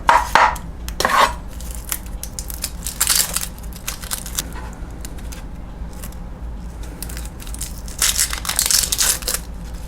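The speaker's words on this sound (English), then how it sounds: "we're gonna cut some thin slices of onion" A knife slicing a small onion into thin slices on a cutting board, with crisp chopping and crunching cuts in irregular bursts, louder near the start and end, no talking.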